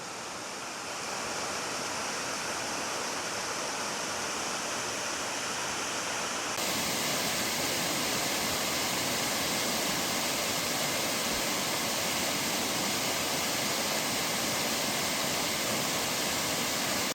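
Spoon Creek Falls on the Olympic Peninsula rushes as a dense, continuous roar that swells louder a few seconds in and then holds steady and close.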